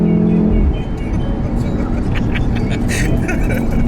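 A Volkswagen Golf R drives along with a steady, loud engine and road drone filling the cabin, while people talk over it throughout.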